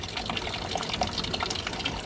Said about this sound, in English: So we're going to let that radiator drain the rest of the way